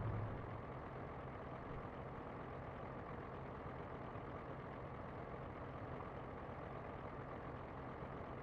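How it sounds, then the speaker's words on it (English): A semi truck's engine idles steadily in American Truck Simulator, a low constant diesel rumble that holds evenly throughout with no talk over it. "Okay, power's already on, engine's on."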